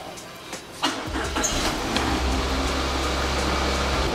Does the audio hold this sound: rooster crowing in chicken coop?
no